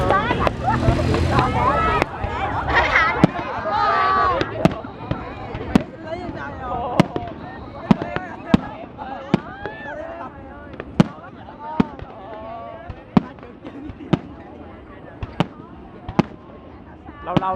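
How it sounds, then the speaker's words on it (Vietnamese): A fireworks display at the Festival Hoa Dalat 2015 in Vietnam: sharp booming bursts that repeat every second or so over a loud, continuous crowd babble. "Lâu lâu được coi pháo bông trực tiếp."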